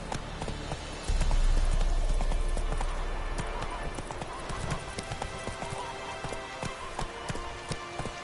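Horse hooves clip-clop steadily on the ground in The Witcher video game, a close, regular rhythm that runs through the whole stretch over a low ambient bed.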